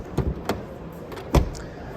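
A 2022 Ford Focus ST Line car door produces a few soft, close thumps and clicks as it opens and shuts, with quiet background between them.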